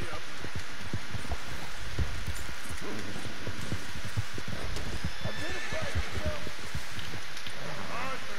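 A horse in the video game Red Dead Redemption 2 whinnies while hooves clop, set against a steady rain-like wash, with a voice speaking over the scene.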